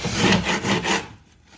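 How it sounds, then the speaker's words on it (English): Rough rhythmic scraping strokes of a scraper shaving texture off a wall, four or five passes close by, then trailing off into quiet. "Scraping. That's what these used to be called scrapers, right?"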